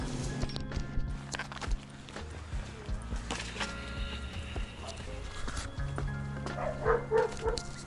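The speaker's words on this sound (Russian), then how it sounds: "Опа, собачки." Small dogs bark near a street during a food delivery stop, with footsteps, passing traffic and a voice over a busy outdoor background; the barks come in short bursts, clearer toward the end.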